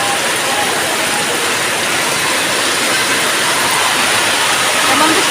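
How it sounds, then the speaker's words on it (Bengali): Heavy rain pours in a dense, steady hiss that fills the air without a break, loud and close throughout. "এত বৃষ্টি আল্লাহ।"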